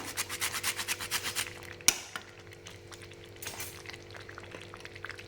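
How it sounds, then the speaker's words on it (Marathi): A nutmeg is grated by hand in a kitchen for a sweet filling: about a dozen quick, rhythmic rasping strokes up close, then a sharp knock and scattered softer scrapes as the grating stops. "इथं जायफळ खिसून घेऊया थोडंसं"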